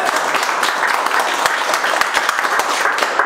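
Steady, dense applause from a large audience of students cheering on a teacher at an institute event, loud and continuous with sharp individual claps standing out and a faint murmur of voices underneath.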